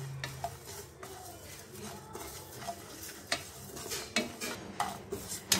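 Cumin seeds dry-roasting in a pan for traditional bisibele bath spice powder, with soft scraping from the stirring spoon and sporadic sharp clinks against the metal pan, all quiet and close, growing a little busier toward the end.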